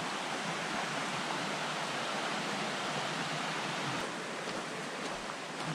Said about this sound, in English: that is the Honeymoon Creek over there